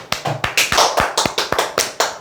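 About ten sharp hand claps in an uneven but steady rhythm, close and loud, with short gaps between them and no talking.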